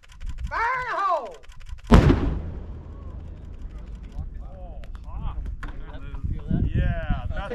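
A commercial explosive charge detonates during a training class, a sharp loud blast followed by a long rumbling decay, with voices talking before and after the boom.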